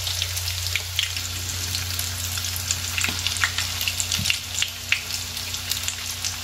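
Tuna patties frying in hot oil in a pan, a steady crackling sizzle with scattered pops and spits throughout, close and fairly quiet, with no talking.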